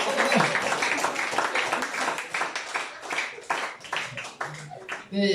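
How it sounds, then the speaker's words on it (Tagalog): A church congregation at a Holy Spirit service claps in praise, bursts of handclaps that fade and surge, mixed with loud talking over the applause. "Palakpakan natin ang Panginoon mga kapatid."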